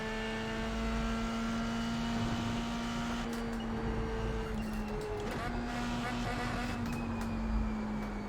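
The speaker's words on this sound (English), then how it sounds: "Way too much rev limiter there" An F3 race car engine in the iRacing sim at Circuit of the Americas screams at high, steady revs with a sustained harmonic whine and a brief stutter where it bounces off the rev limiter, loud and continuous throughout.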